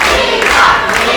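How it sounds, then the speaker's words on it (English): Loud crowd roaring and cheering for a fighter at a sold-out boxing match in Witham Public Hall, a dense, sustained wall of voices with no pauses. "Listen to this crowd at the sold out Witham Public Hall get behind Levi"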